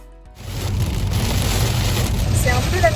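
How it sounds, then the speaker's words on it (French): Steady rain with hail hammers down outdoors at a small farm, a dense continuous patter close by that starts abruptly after a brief quiet moment, with no voices over it. "Il y a de la grêle."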